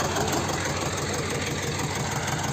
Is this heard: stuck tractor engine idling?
yes